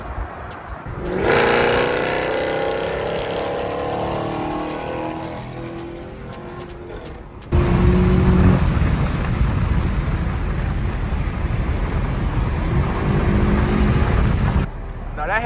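A Dodge Hellcat Jailbreak's engine roars loudly under hard acceleration with a rising whine, then a second, even heavier stretch of sustained engine roar that cuts off abruptly; voices are heard over it.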